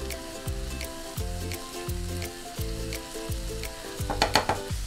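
Onions caramelizing in butter in a pan give a close, continuous sizzle with a repeating pulsing rhythm throughout.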